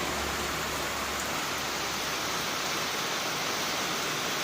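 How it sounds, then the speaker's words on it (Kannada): Heavy rain pours steadily at a roadside dhaba, a dense, even hiss with no break and no voices. "ಸಖತ್ತಾಗಿ ಬರ್ತಾಯಿದೆ ಮಳೆ."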